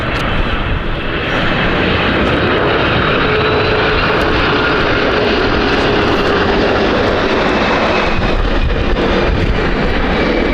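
A Delta airliner arriving at Edinburgh Airport roars steadily and loudly for the whole stretch, a broad sustained engine rumble heard from nearby with no talk.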